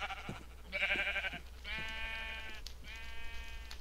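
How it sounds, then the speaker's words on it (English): Sheep in a video game bleat in two or three drawn-out, wavering calls close by, with brief clicks between them and no talk. "This sheep just spawned in."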